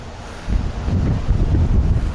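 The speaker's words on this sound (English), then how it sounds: "it's a wet, windy, blustery day here in Rainier" Steady gusty wind on a wet, blustery day in Rainier buffeting the microphone, a low rumbling roar that swells in strength partway through, with no voices.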